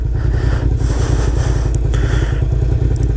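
A motorcycle engine idles steadily up close in a low rumble while the bike is being parked, with a few light clatters and scrapes over it.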